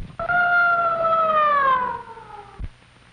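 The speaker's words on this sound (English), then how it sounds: "The ambulance was at the dock when the Sarangan arrived and took Pete to the general hospital" An ambulance siren sounds as a single loud, close wail that slowly falls in pitch, then cuts off, leaving a brief thud and quiet.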